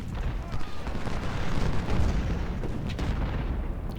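A cannon volley in the Civil War strategy game Ultimate General: Civil War, heard as dense, rumbling, continuous booms of artillery fire rolling together at a steady loud level.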